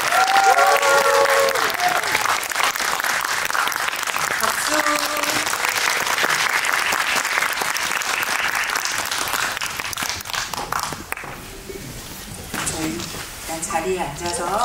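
Cinema audience at a Korean film talk event applauds two directors and an actress walking onstage, loud sustained clapping that fades over several seconds, then a host speaks over light lingering claps.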